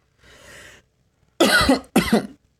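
Coughing from a young Spanish-speaking gamer streaming Free Fire: a soft breathy wheeze first, then two loud, harsh coughs in quick succession, very close to the microphone with silence between.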